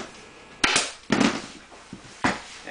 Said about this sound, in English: When I temporary tack, I shoot in on an angle like this, so it's easier to take a staple out.